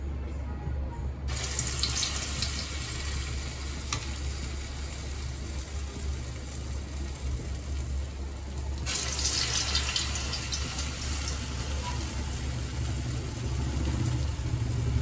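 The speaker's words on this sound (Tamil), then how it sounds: "எண்ணெய் நல்லா காஞ்சிடுச்சு. இப்போ குட்டி குட்டி போண்டாவாக போட்டுடலாம் நம்ம." Small balls of bonda batter fry in hot oil with a steady, close sizzling hiss. The sizzle grows louder and brighter partway through as the frying intensifies.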